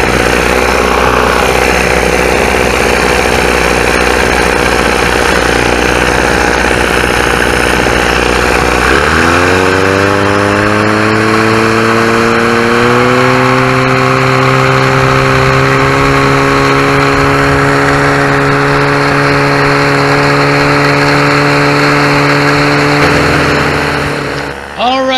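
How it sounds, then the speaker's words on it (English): A 1963 Johnson 28 hp Super Seahorse outboard motor runs continuously and loudly, shifting after about nine seconds into a steadier, smoother idle with a strong harmonic drone before tapering near the end. "1963 Johnson 28 horse Super Seahorse resurrected this old outboard. Runs good, idles good."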